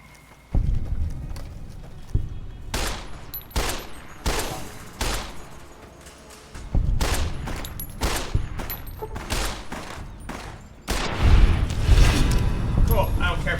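Gunfire in the video game Fallout: New Vegas, modded: sharp shots and short bursts crack in irregular clusters, with a steady low rumble and a voice at times underneath.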